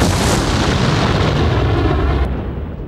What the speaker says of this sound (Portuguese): um oficial operador de câmara filmou uma enorme explosão